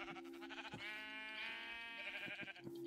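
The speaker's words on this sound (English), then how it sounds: "Oh, black sheep." A black sheep in the Minecraft Hexxit modpack bleats, giving a short series of wavering, nasal bleats that run into one another, close and fairly quiet with no talk.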